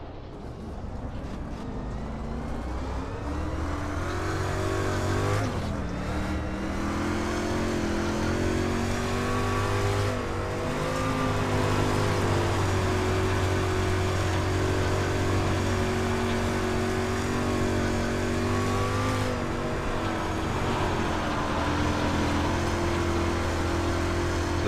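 Street stock race car engine lapping the Eldora dirt oval in iRacing, a loud, steady droning roar that rises and falls in pitch as the throttle opens and lifts through the corners, with no voices over it.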